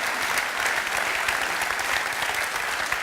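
A keynote audience at an industrial software user conference in Vienna claps without a break. The sustained applause is loud and even, with no pauses, for about three seconds.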